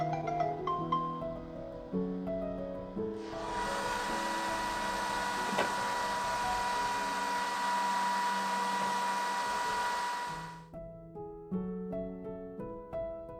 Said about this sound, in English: Use the curing machine to cure the printed part again to increase its strength.